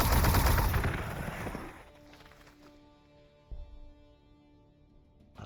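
Gunfire from units in the Warhammer 40,000: Gladius strategy game, a loud burst of rapid shots that fades out, followed by a single sharp impact over a quiet tonal background.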